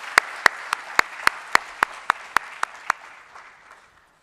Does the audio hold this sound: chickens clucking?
no